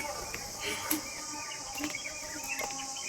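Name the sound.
birds singing at dawn on a terrace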